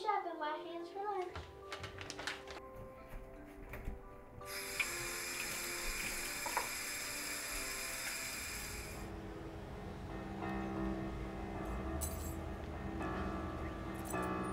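Water runs from a sink tap as hands are washed, a steady close hiss and splash that carries through most of the scene, with children's voices and other talk mixed in.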